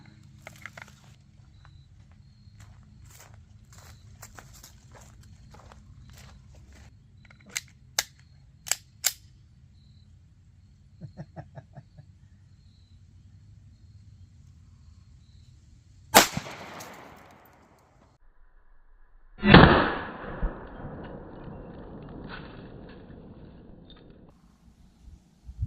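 Pistol shots into concrete blocks, fired from .30 Super Carry, 5.7x28, .357 SIG and 10mm handguns: two loud, sharp reports stand out well apart, each trailing a brief rumble, with fainter clicks and handling noises before them.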